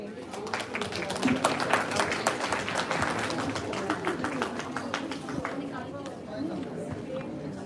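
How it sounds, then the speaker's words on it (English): Brisk audience applause at a live event, a dense patter of claps that swells then thins out, with people chatting and talking over it throughout. "And a huge round of applause,"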